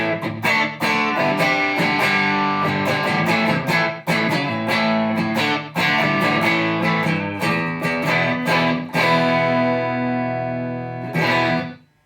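A Stratocaster electric guitar played through a TC Electronic Dark Matter distortion pedal, loud driven chords and riffs struck in phrases with brief gaps, ending on a sustained ringing chord before a final strum.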